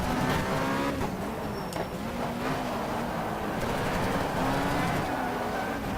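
Race car engine revving steadily with tire squeal, from the racing video game GTR 2 at the Winton circuit in Australia; a loud, continuous drone with shifting pitch, with no one speaking.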